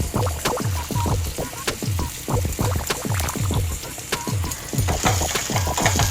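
Mutton korma masala sautéed in a pan, heard as a rapid, rhythmic series of close wet slaps and scrapes from steady stirring over a dense sizzle, loud and continuous.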